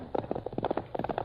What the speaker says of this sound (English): From out of the past come the thundering hoofbeats of the great horse Silver.